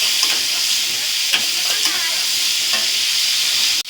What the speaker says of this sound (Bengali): আগে ফুলকপিটা ভেজে নিলাম